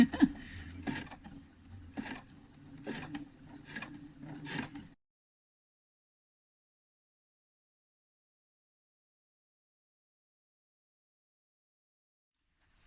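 A sewing machine stitches bias binding onto Sasha trousers, quiet rhythmic mechanical ticking and whirring for several seconds, then stopping into silence.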